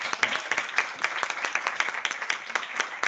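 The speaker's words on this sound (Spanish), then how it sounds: "Un aplauso." Applause closes a webinar on livestock farming and rural repopulation: a small group claps in distinct, uneven hand strikes, fairly close and dry, continuing steadily for a few seconds.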